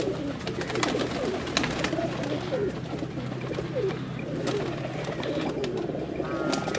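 Black and blue pigeons of a pure Teddy breed coo in low, steady repeated phrases throughout, close by and fairly loud over a constant background hum.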